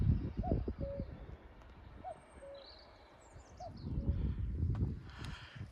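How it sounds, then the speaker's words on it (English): Cuckoo calling from trees along a hillside walking trail in Wales, several faint two-note calls spread out and distant, with soft wind and a quiet outdoor background. "Another cuckoo somewhere in those trees."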